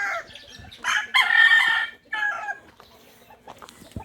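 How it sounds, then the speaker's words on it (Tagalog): Many fighting cocks crow and cluck nearby, with overlapping loud crows and shorter clucks in quick succession, then quieter scattered calls. "Ang dami manok dito."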